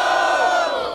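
A crowd at a Brazilian freestyle rap battle roars and shouts in a loud, dense burst of cheering that lasts about a second.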